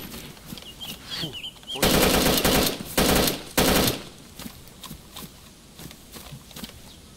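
A military video game firefight: three loud, sustained bursts of automatic gunfire ring out close by between quieter stretches, with footstep-like thuds and faint background noise around them.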